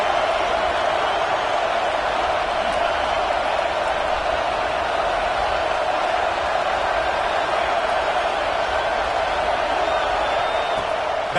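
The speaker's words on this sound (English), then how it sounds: "Man, this crowd really affecting the football game." Home crowd at a Virginia Tech versus USC football game roars in a steady, dense wash of cheering and shouting that holds for the whole stretch, loud and unbroken, with no gaps.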